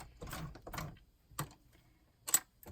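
A sewing machine stitches through paper in a few short separate bursts of quick mechanical clatter, with quiet pauses between them as the work is turned.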